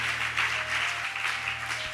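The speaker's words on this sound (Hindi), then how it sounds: "जोरदार ताली हो जाए" Church congregation applauding in praise of Jesus Christ, a steady dense wash of many hands clapping together throughout, with a faint electronic hum underneath.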